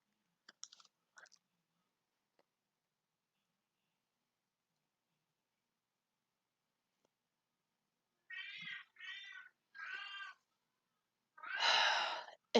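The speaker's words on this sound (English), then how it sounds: "If that cat doesn't shut up" A cat meowing close by, four distinct insistent meows in quick succession after a long quiet stretch, with a few faint clicks near the start.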